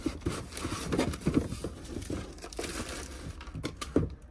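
Plastic packaging crinkles and rustles close up in irregular bursts while a Sony A5000 camera is unboxed, with no talking.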